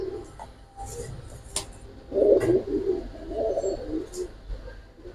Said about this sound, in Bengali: কবুতর মাশাআল্লাহ